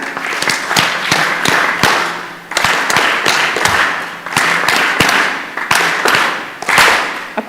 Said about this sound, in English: So let's do 5 factorial claps.